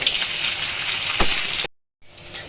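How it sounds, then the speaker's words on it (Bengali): Onions sizzle steadily in a hot pan of oil with bay leaves for a Bengali-style gravy. The hiss is constant, drops out to silence for a moment, then resumes. "কিছুটা পেঁয়াজ আমি ভেজে নিচ্ছি, দিলাম পেঁয়াজটা একটু লাল লাল করে ভাজবো"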